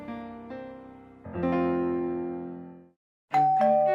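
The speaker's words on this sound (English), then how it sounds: "The doorbell, a welcome sound." A two-tone doorbell chimes ding-dong, rings out and fades, then sounds again after a short silence, clear and close.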